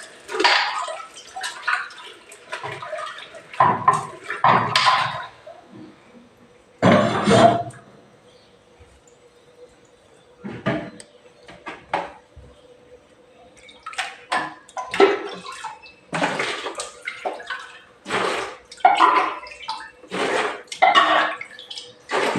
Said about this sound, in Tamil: கிரைண்டர் வாஷ் பண்ணுறேன் ஃப்ரெண்ட்ஸ்.